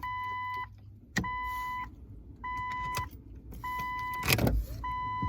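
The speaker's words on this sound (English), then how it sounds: "that beeping is awful" A Jeep Cherokee's electronic warning chime beeps repeatedly in regular bursts, fairly close, with a brief clunk and rustling of handling between the beeps as the key is turned.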